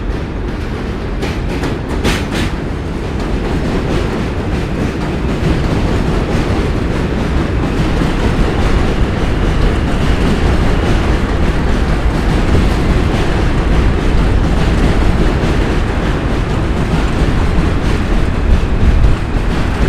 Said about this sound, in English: Can I feel the train go by?